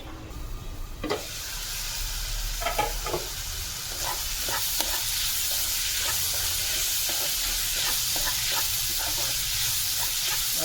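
Vegetables with salt cook in a pan for street-style egg rice, a continuous close sizzling hiss that builds after a soft start, broken by scattered stirring clicks and scrapes.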